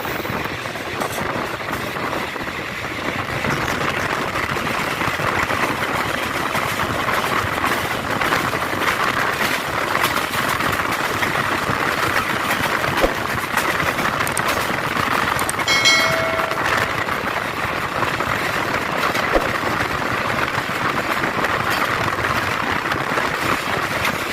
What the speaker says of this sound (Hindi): आला रेलवे स्टेशन इस टाइम क्रॉस कर रही है ट्रेन। काफ़ी अच्छी स्पीड में पास हो रही है इस टाइम।